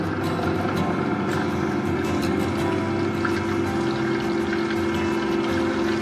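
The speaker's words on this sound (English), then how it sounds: "And I'm just going to turn on the mixer." A Vitamix Professional 500 blender whirs at low speed with its container half full of warm water, a loud, steady motor drone with churning liquid, close and continuous without speech.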